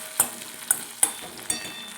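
Fish frying in a pan gives a low, steady sizzle, broken by four evenly spaced sharp spatula clinks against the pan.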